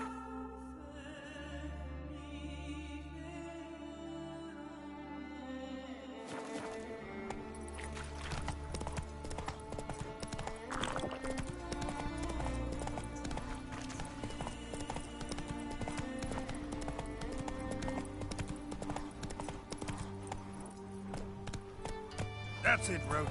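Hoofbeats of the horse Roach galloping in The Witcher 3, rapid rhythmic clip-clop against game music and ambience, with voices speaking over it.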